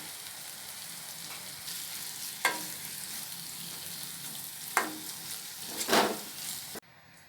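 Coriander is stirred into a potato and pea masala sizzling in a pan, with a steady low frying hiss and three distinct scraping strokes of a spoon, close and without speech, ending abruptly.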